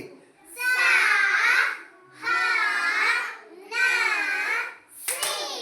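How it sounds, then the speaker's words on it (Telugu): A child in a primary school classroom claps hands in short bursts between rounds of vocal chanting, with young voices dominating and the claps mixed in close by. "చప్పట్లు కొట్టింది ఒత్తు ఉంది కాబట్టి."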